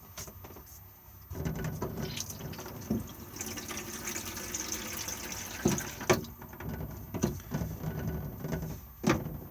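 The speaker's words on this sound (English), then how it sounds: "To drain it, just push it slowly and then the water will drain off." Water draining from a drop-down basin in the washroom of an Auto-Sleeper Dorset motorhome, heard as close, steady trickling and gurgling with a few knocks and clicks from the basin.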